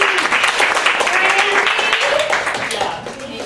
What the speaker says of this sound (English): if we would give each one of them a round of applause, that would be lovely.